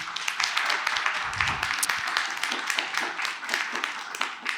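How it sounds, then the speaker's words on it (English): Audience at a police quarterly meeting giving a round of applause, a dense wash of many overlapping claps sustained at steady, moderate loudness throughout. "So if I can just get you to give them a round of applause again"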